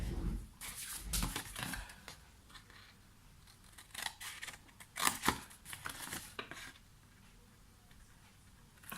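Several short, crisp snips and rustling paper, irregular bursts close to the mic, with quiet handling noise between cuts.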